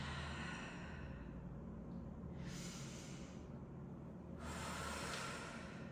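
Two soft, breathy exhalations during a Pilates workout, one midway and one near the end, faint over a steady low background hum with no talking.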